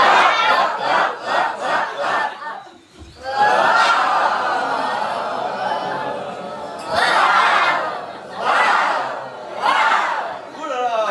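An improv theatre audience shouting together in a vocal warm-up, with rhythmic bursts of loud group yelling, a longer sustained roar, then further spaced shouts, with scattered laughter.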